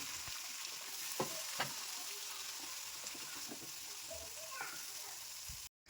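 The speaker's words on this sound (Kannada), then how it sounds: "ಈಗ ಟೊಮೆಟೊ ಹೆಚ್ಚಿರೋದು ಹಾಕ್ಬಿಟ್ಟು ಅದು ಸ್ವಲ್ಪ ಸುಂಡೋ ತನಕ ಫ್ರೈ ಮಾಡ್ಕೊಂಡ್ಬಿಡೋಣ" Chopped tomato hits a pan of fried garlic and sizzles in a steady hiss, with a few sharp clinks of a utensil stirring, close by; the sound cuts out briefly near the end.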